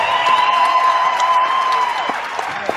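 Applause from a small crowd, a steady crackle of clapping with a sustained tone running beneath it, heard at a moderate level.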